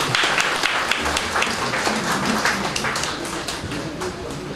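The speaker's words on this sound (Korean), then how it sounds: "박수 부탁드리겠습니다" Audience applause at a Korean literary award ceremony, the Kim Gu-yong poetry prize event, a dense steady patter of many hands clapping together throughout, fairly close and even in loudness, with no speech over it.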